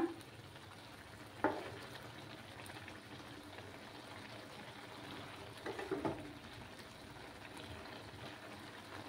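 Bengali-style pineapple chutney sizzles softly in a pan on a gas stove. A faint, steady frying hiss continues throughout, broken by a brief spoon clatter early on and a short cluster of stirring scrapes later.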